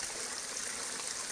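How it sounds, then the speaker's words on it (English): Spring water flows out from beneath a tree and runs downhill, a soft, even trickle and rush heard close but faint, with no voices over it. "the water comes out right underneath it. And it just flows out from there and runs down here."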